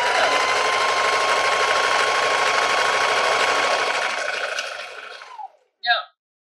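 A sewing machine stitches fabric in a continuous fast whirring run, close and steady, that slows and winds down near the end before a short final mechanical burst.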